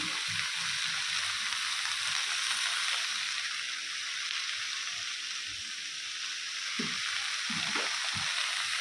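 Butter sizzles and fries in a hot pan with a steady, bright hiss that lasts throughout, broken by a few soft stirring knocks near the end.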